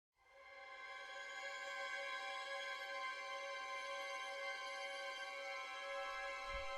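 A sustained, thin string tone from Spitfire Audio Albion V's Air, Ice and Trato patch fades in quickly and holds steady as one long glassy chord, quiet and unaccompanied by speech.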